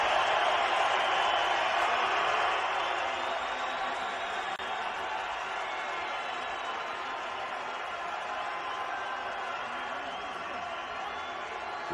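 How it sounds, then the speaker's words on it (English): Stadium crowd in Vina del Mar awaiting a Chile versus Samoa rugby match, a broad steady roar of many voices, loud at first and easing slightly into a constant distant murmur. "Listen to the crowd in Vina del Mar."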